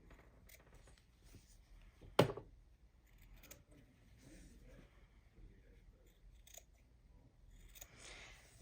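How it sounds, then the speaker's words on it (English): Scissors trim the corners of fabric with one sharp, close snip that stands out over quiet rustling of cloth, followed by faint handling sounds. "We're just trimming the corners on all 4 of these corners."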